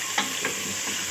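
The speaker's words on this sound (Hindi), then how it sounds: "अब इसके साथ हम इसको अच्छे से फ्राई कर लेंगे गोश्त के साथ" Mutton fries with onions in a pan, a dense steady sizzle close by, broken by a few quick stirring scrapes, with no voices.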